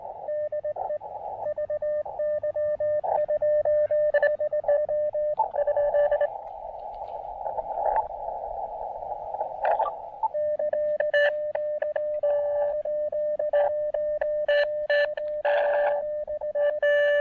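A steady whistling tone from a station tuning up on the frequency cuts in and out over amateur radio hiss, with bursts of static and short intermittent beeps, and no voices.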